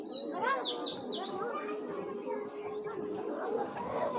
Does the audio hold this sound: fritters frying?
no